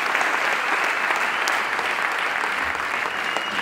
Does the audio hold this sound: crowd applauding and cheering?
yes